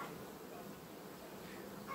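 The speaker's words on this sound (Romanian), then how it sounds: "Are albinuță multe, multe." A returned honeybee swarm buzzes steadily at the hive it had left, a faint, continuous drone of many bees with no break.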